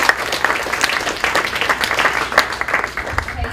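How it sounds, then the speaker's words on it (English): An audience claps in a college senate meeting, a dense patter of many hands at close to moderate distance, fading out over a few seconds. "Please get another round of applause."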